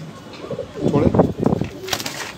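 Pigeons coo softly in a low, throaty rhythm close by, with flutters and a sharp chirp near the end while people talk.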